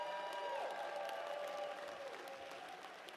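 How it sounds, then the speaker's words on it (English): Applause from a crowd at a state party assembly, honoring campaign staff, a fairly faint, steady wash of clapping at a distance with a tonal feedback-like whine over it, fading slightly toward the end. "Let's give them a round of applause as well."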